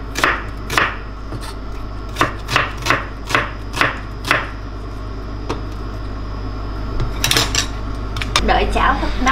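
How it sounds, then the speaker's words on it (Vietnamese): Onion sliced thinly with a knife on a cutting board for Korean spicy noodles, a quick run of crisp, close, evenly spaced chops, then a pause and a cluster of clattering knocks. "Củ hành các bạn cắt mỏng như thế này nè để vô mì cho nó thật là thơm"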